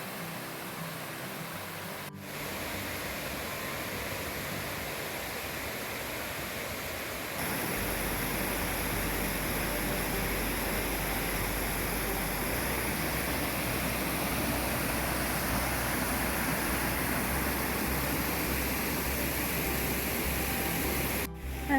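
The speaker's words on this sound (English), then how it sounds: "Find another cool waterfall." A forest creek waterfall in Oregon's Siuslaw National Forest rushes in a steady, even hiss that swells louder partway through and stays constant to the end.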